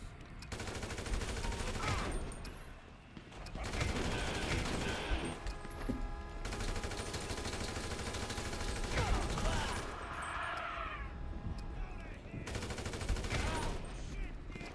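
Shots from an armed man crack in GTA 5 story mode, repeated bursts of fire in fast clusters with short pauses between, while voices talk over the shooting.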